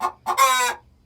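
Hens in a predator-proof chicken coop give two short, close clucks followed by a longer drawn-out squawk, with no talking.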